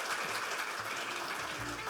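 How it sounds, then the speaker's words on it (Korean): Applause from an audience welcoming an official at a Korean software medical device industry forum, a dense, steady wash of many hands clapping at moderate level, with faint speech underneath. "큰 박수로 환영해 주십시오"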